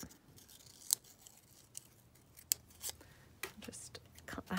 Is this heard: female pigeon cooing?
no